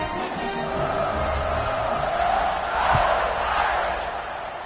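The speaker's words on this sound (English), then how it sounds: "and this crowd is buzzing after that last score." A large football stadium crowd buzzes and cheers after a score, a dense continuous roar of many voices that swells briefly in the middle, with no clear speech on top.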